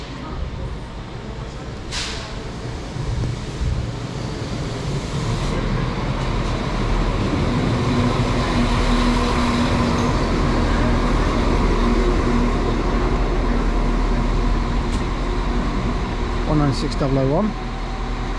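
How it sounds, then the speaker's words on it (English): The 1700 service to Leamington Spa pulling into a West Midlands station platform: a steady low rumble and hum throughout, with a brief squeal near the end and a person talking over it. "And then the 1700 to Leamington Spa is arriving."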